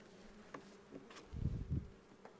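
Honeybees hum and buzz close by at an open hive during a spring inspection, a soft droning swarm that swells briefly louder, with no voices.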